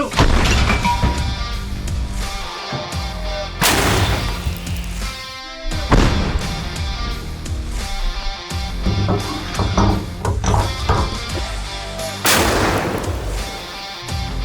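A 2S1 Gvozdika self-propelled howitzer fires heavy blasts repeatedly, loud and booming, each shot rolling out into a long echoing rumble before the next one.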